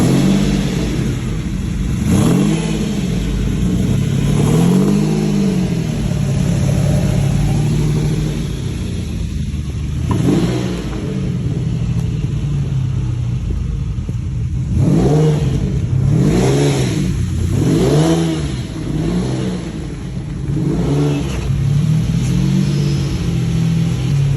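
A Lamborghini Diablo V12 revs repeatedly and loudly up close, each throttle blip rising and falling in pitch, with a steady idle rumble between the bursts.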